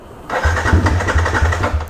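A motorcycle engine cranks and catches, then runs with a steady low mechanical throb and a rhythmic pulsing beat, fairly loud and close, with no talking over it.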